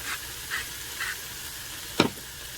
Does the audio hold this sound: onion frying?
yes